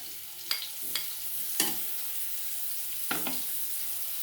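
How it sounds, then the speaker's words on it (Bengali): Garlic paste frying with browned onions in a pan for chickpea ghugni: an even, steady sizzle with four or five quick spatula scrapes cutting through, up close. "পেঁয়াজগুলো আমার বেশ বাদামি হয়ে ভাজা হয়ে গেছে। এবার আমি দিয়ে দেবো রসুন বাটাটা।"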